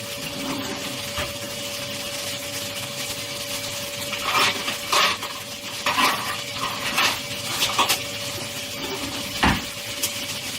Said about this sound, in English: So this is just going to carry on frying